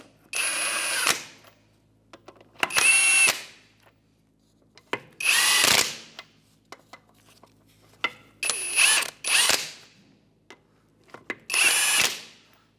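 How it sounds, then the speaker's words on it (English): A ratchet with a 21mm socket snugs up the lug nuts on a refitted Hyundai Elantra wheel. Six short bursts of brisk clicking are separated by pauses with faint clanks and taps. "with a 21mm socket, we'll just snug these up"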